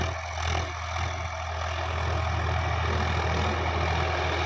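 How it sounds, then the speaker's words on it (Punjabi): A tractor engine running steadily, its low, even rumble and drone continuous and close throughout, with no talking over it. "ਟਰੈਕਟਰ ਦੀ ਆਵਾਜ਼"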